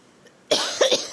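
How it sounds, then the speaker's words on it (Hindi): A woman gives one sharp, close cough followed by two smaller hacking bursts after a moment of quiet, with no talking. "मेरा गले में भी ना खांसी हो रही है मुझे।"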